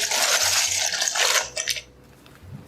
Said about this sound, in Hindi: इसमें मैं पास्ता डाल दूँगी।